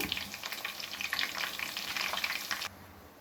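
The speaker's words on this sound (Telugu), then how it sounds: "ఇవైతే మంచిగా ఫ్రై అయినాయి" Gobi 65 cauliflower pieces deep-frying in hot oil, a steady dense crackling sizzle that cuts off sharply near the end, leaving only quiet room tone.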